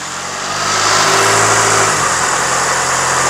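A Chevrolet S10 with a 200 hp engine revs up from idle and holds a steady, loud drone around 1,500 RPM, with a constant low hum close by and no talking.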